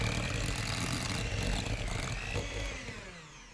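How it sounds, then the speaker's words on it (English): An electric hand mixer whirs steadily through a pickle juice dip, a continuous buzzing drone that softens slightly toward the end. "I'm going to blend it with this mixer"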